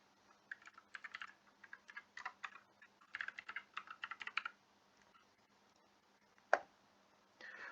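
Login details are typed on a computer keyboard: soft, close key clicks in quick irregular runs, then a pause and a single sharper keystroke, quiet with no talking.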